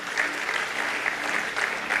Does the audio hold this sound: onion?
no